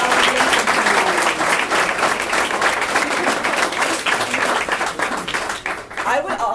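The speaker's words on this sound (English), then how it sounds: "let's give another round of applause to our 2013 Diamond Honoree" An audience claps in sustained, dense applause at a Girl Scouts Diamond honoree event, loud and steady throughout before tapering slightly at the end.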